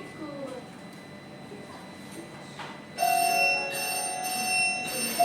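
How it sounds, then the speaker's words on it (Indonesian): An electric bell rings loudly in sustained bursts after a switch is pressed, starting abruptly midway and repeating with short gaps, following a quieter stretch of background noise. "ada saklar dipencet terus belnya bunyi"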